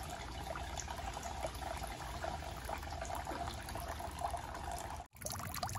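Water streams continuously out of a garden pond filter box with a cotton filter layer, a steady moderate trickle and splash, briefly cut by a short dropout near the end.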